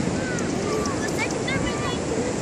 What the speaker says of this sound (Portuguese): Tá meio frio, tá um vento meio frio.